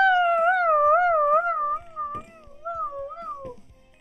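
A goat in the video game I Am Bread bleats in a long wavering, vibrato cry lasting a few seconds, with scattered clicks and thumps of game action underneath.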